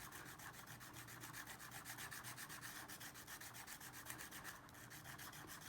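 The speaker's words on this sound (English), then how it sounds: "I'm just going to use the sandpaper." Sandpaper is rubbed against a block to grind off a fine powder for a drawing, making faint, quick, rhythmic scratchy strokes that continue steadily throughout.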